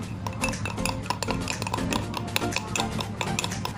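A spoon stirs a thick, creamy mixture in a bowl, clinking against the sides in steady, close scraping strokes that carry on without pause.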